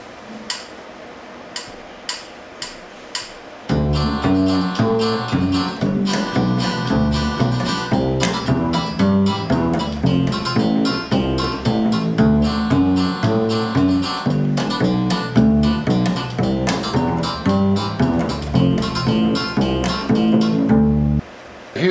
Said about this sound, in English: This time I'm going to play Don't Let Your Deal Go Down with a 1-3-5-3 progression in behind it.